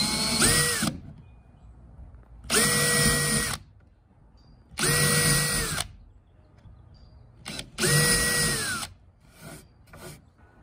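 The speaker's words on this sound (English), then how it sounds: "drill in maybe an 1/8 inch to 1/4 inch at the most on all 4 holes" A power drill with an 1/8-inch pre-drilling bit bores four shallow pilot holes into wood for a seated throwing platform handle, four loud whining bursts of about two seconds each separated by pauses, close up.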